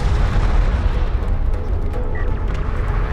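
Heavy, continuous booming weapon fire from an enemy railgun in the real-time strategy game Homeworld: Deserts of Kharak, a dense low rumble with repeated blasts sustained loud throughout.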